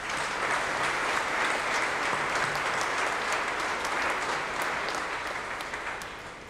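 A church congregation at a solemn feast-day Mass in Pétion-Ville applauds, with many hands clapping in a steady, even wash of sound that softens a little toward the close.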